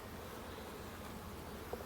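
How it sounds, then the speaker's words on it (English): A dense, steady buzz of many bees, soft and continuous, like standing beside a busy hive. "Really full of bees"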